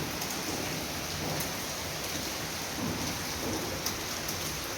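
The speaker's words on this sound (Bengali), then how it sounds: "বাইরে আবার বৃষ্টি শুরু হয়েছে," Outdoors, a heavy afternoon downpour keeps up a thick, continuous wash of rain on surfaces, with a few faint drips and taps breaking through and nobody talking.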